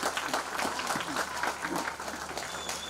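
A room full of people at a Hamyang county football association evening gathering claps together at the host's urging, a dense, steady wash of applause that stays loud and unbroken throughout, with a faint voice underneath.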